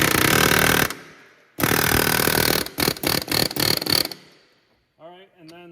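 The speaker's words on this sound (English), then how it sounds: "I'm going to cheat and use the air hammer." An air hammer rattles against a front left CV axle on a 2012-2017 Toyota Camry Hybrid 2.5L, first in one long loud burst, then in a quick series of short stuttering bursts, with brief talk at the end.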